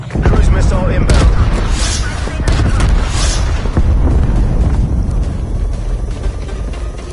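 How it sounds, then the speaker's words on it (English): A cruise missile explodes in a console shooter game, a loud deep rumbling boom that rolls on for several seconds, with helicopter rotor noise and a voice speaking over the blast. "Cruise missile inbound."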